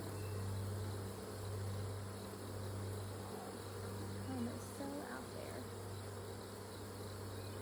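Honeybees hum around a backyard hive during an inspection, a steady low drone close by under a brief spoken remark.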